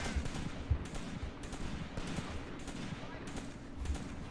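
Scattered small-arms and machine-gun fire in the WWII tactics game Graviteam Tactics: Shilovo 1942, irregular cracks and short bursts at moderate distance, with a voice talking faintly underneath.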